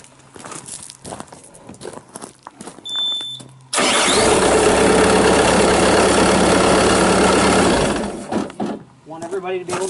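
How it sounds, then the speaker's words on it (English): A 2005 Bobcat T180 skid steer loader engine cranks and starts with the hood open, then runs loud and steady for several seconds before cutting off, with talking before and after. "I'm going to start the motor real quick so you can see it run with the hood open."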